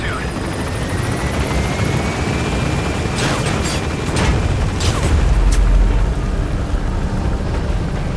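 Helicopter lifting off in Metal Gear Solid V: The Phantom Pain, a steady loud rotor roar throughout with a deeper swell midway as it climbs.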